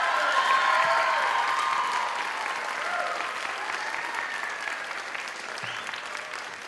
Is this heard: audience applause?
yes